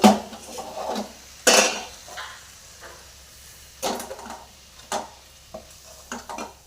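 A cooking pot being lifted off a home stove after the dish is done: a sizzle in the background, with sharp metallic clanks and scrapes of pot and utensils at irregular intervals, close and fairly loud, with no talking.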